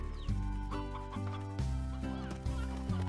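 Hen hens, the chicken creatures of the game Slime Rancher, cluck in repeated, evenly spaced bursts over a low game background, close and clear, with no talking.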